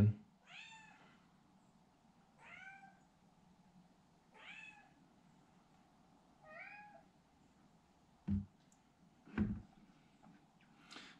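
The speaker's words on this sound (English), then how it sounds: "I don't know if you can hear our cat in the background, Peanut." A cat meows four times at a steady pace, fairly close, over a low background hum, followed by a couple of dull thuds.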